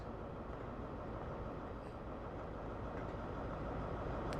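An HST train from the Train Simulator World video game stands at a Paddington platform, its engine giving a steady, heavy low rumble and hum that stays unbroken throughout with no talk.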